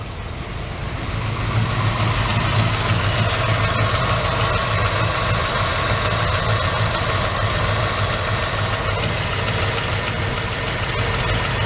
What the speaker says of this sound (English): I'm going to turn that idle down just a little bit. It's up there at 800, I guess, as it warms up.